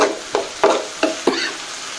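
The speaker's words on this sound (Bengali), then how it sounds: "আমার ঢেঁড়স ভাজি প্রায় হয়ে যাওয়ার পথে" Okra (ladies' finger) frying in a pan with a soft continuous sizzle, broken by four or five short scraping stirs at roughly even intervals, close and moderately loud.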